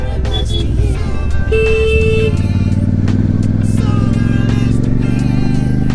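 A Royal Enfield Super Meteor motorcycle rumbles steadily through a traffic jam on a ride toward Delhi, loud and close, with surrounding traffic noise and a brief car horn toot.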